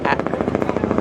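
Helicopter flying overhead during the Tour du Rwanda cycling race, a loud rapid rotor chop beating steadily, briefly heard under a voice.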